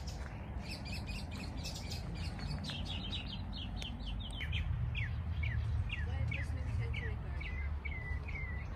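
Many birds chirp and tweet continuously in a dense outdoor chorus in a botanical garden, with a steady low background hum beneath the calls.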